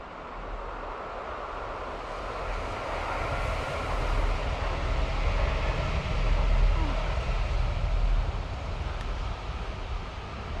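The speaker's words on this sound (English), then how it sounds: "Oh, here comes the train. Think southbound." Southbound train passing unseen behind a small hill in a Norwegian forest, a faint distant steady rumble swelling and fading under wind.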